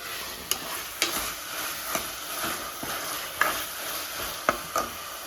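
Peas stirred into pulao frying in a pan, a steady broadband sizzle with sharp spoon-against-pan clicks landing every second or so, close and fairly loud with no voices.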